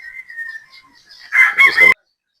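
A Bolson Rounded broodstag rooster lets out one loud, close crow that cuts off abruptly, with faint softer bird calls before it.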